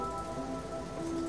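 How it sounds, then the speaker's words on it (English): Rain patters steadily on a rooftop, a soft, continuous hiss of droplets heard faintly and evenly throughout a short stretch, with no voices. "I'm energized by the sound of raindrops on the rooftop"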